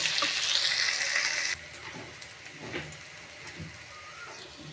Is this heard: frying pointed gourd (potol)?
yes